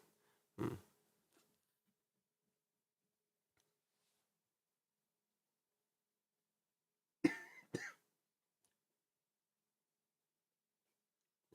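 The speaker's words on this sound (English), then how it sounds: "I just started coughing like yesterday." A single short cough, then a long silence, then two more coughs close together, near and fairly loud against a quiet room.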